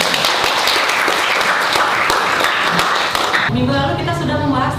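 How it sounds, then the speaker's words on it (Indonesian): Classroom applause for a student in a biology lesson, dense clapping from a group of students that runs for several seconds before cutting off abruptly into a voice. "Tepuk tangan untuk Hadi."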